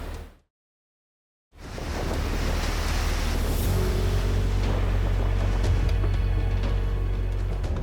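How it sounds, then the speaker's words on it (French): Rough sea waves and strong wind in the Arctic roar steadily after a short silent gap, a loud continuous wash of surf with wind buffeting the microphone. "The sea is increasingly chaotic"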